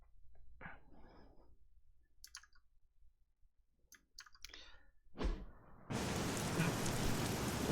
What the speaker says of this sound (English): Well, at least somewhere it's raining.